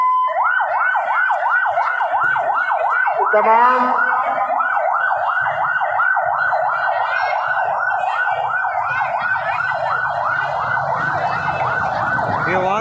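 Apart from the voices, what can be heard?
ambulance siren on a busy road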